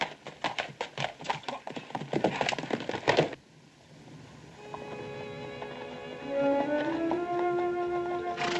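Horses gallop across open country in a Western chase, a fast clattering rhythm of hooves loud and close for a few seconds before cutting away to quieter ambience and a musical score.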